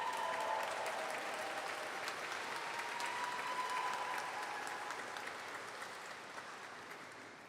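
Audience applause at a Duke Physician Assistant Program hooding and certificate ceremony, honoring the graduates' family and friends: steady, dense clapping from a large crowd throughout, quite faint and slowly tapering toward the end.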